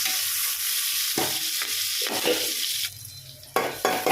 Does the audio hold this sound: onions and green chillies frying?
yes